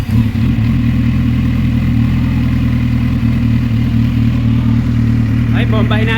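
Kawasaki Z900 SE fitted with a titanium slip-on exhaust, its engine running loud and close with a steady low rumble and mechanical clatter, a brief higher rasp near the end.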